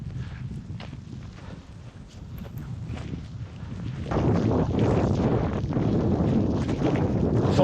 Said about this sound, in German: der Wind kommt hier von links und zieht komplett da rein